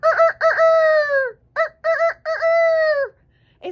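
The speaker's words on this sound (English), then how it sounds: "Why is that rooster crowing?" A rooster crows loudly and close by, several harsh drawn-out calls in quick succession, the last one cut short.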